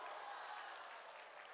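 A convention audience at AC2018 applauds, giving a faint, distant wash of steady clapping that holds evenly throughout, with no voices on top.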